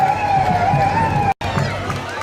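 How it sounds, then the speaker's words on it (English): A siren wails at a street parade for the Dragon Con convention in Atlanta, a loud steady tone over crowd noise, cutting out abruptly for a moment before resuming. "Who wants the siren?"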